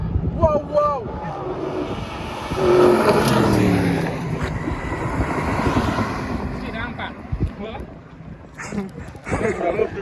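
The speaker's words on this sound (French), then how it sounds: "Le Dodge chargeur, le Dodge chargeur est arrivé loin devant." A Dodge Charger revs and races past at an outdoor car meet in Senegal, its engine rising in a loud swell amid wind noise while someone talks excitedly over it.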